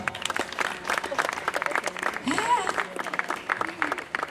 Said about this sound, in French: Vous applaudissez pour lui